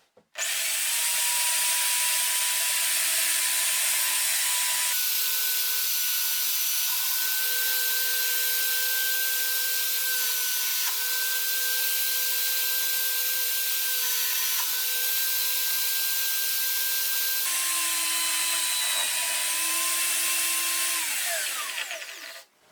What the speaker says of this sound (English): I drill the 4 holes for the screws